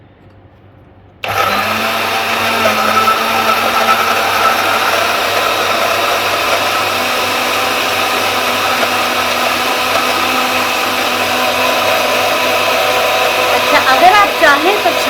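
An electric blender whirs steadily and loudly while blending aloe vera gel for a homemade skin toner, starting abruptly after a brief quiet moment and running continuously with a high-pitched motor whine.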